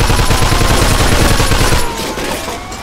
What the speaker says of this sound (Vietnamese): Nấp nấp nấp, chạy nó bắn kìa.